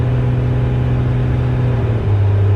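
A second-generation Cummins 12-valve diesel truck pulls hard under acceleration during a quarter-mile pass. It makes a loud, steady low drone heard from inside the cab, and the pitch steps as it shifts gear near the end.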